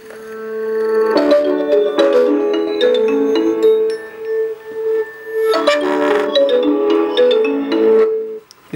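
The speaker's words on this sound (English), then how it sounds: "Play that Nokia tune again." Nokia tune ringtone played loud through a Pocket Boom portable speaker stuck to a box, from a Nokia phone; a bright melodic phrase plays twice with a short dip between, clear and close with no talking.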